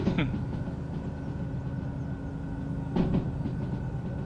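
A video game train in Derail Valley rumbles steadily with a continuous low drone and a faint tonal whine, with a couple of brief squeaky clunks near the start and around three seconds.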